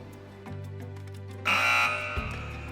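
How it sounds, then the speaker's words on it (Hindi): A contestant's quiz buzzer sounds during a televised Islamic quiz show, a loud electronic buzz lasting about half a second over a steady studio hum. "तो मैं बज़र्स एनेबल कर रहा हूँ।"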